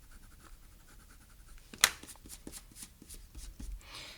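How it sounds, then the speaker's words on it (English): An eraser rubs out part of a pencil drawing of a hand on paper. A sharp tick comes first, then a run of quick, soft back-and-forth scrubbing strokes, faint and close, with no voices. "what I'm going to do is I'm going to erase this"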